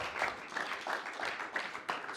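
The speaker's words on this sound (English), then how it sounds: "let's have a round of applause, please, for the runners-up" Audience applause for the runners-up at a pool championship final, a soft, steady patter of clapping heard from a distance across a hall.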